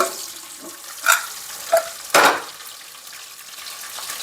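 Spices tempering in hot oil, a few short sharp sizzling bursts, the biggest around midway, separated by quiet gaps over a faint background hiss.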